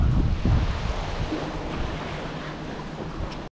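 Rain and gusting wind at night beneath a bridge during a fishing trip, a steady broad wash of noise with wind buffeting the microphone, loudest at the start and easing slightly, with no talking.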